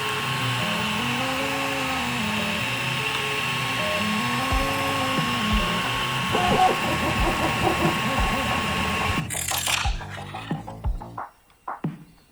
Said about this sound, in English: Fired up the printer.